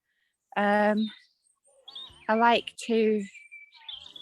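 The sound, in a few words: blackbird singing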